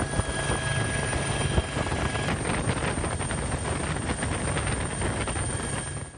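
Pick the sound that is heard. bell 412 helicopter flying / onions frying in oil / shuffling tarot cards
bell 412 helicopter flying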